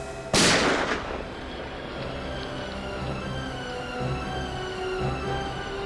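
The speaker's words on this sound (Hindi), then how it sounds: "अभिजीत, गोली तो अब भी चलेगी" One sharp, loud gunshot cracks near the start, then rings out and fades into a long echoing decay over a low, steady background.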